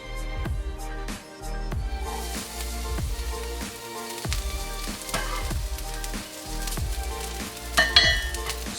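Chopped garlic sizzles steadily in heated olive oil in a pan, a continuous frying hiss that sits under rhythmic background music.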